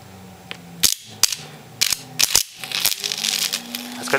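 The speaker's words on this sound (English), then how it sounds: "Those big blue suppressor caps going to make a big bang." Big blue suppressor capacitors burst one after another as sharp, loud cracking bangs, about eight irregular pops over a few seconds, with hissing and crackling between them.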